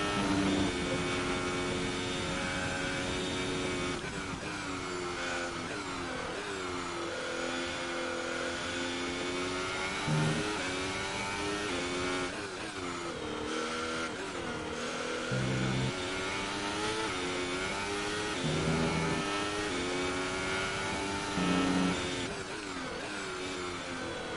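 An F1 race car engine in a racing game on the French Grand Prix circuit screams continuously at high revs, rising and dropping with gear shifts and corners, loud and steady without talk.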